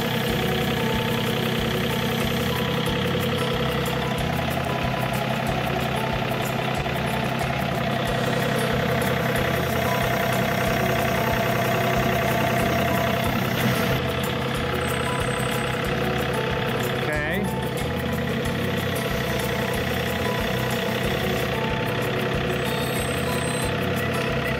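A vehicle with a raised loader bucket idles while driving onto ramps outdoors by a garden. The engine drones steadily and loudly with a low, pulsing rumble, and no one speaks.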